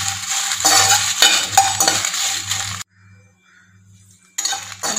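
Spices dry-roasting in a pan are stirred with a utensil, giving repeated scraping and clinking strokes over a low hum, then a short lull before the stirring resumes.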